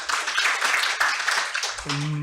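Audience applause at a university education innovation vision event fills most of the clip, dense and steady, welcoming the professors' council chair to the podium. It cuts off near the end as a short tonal hum comes in.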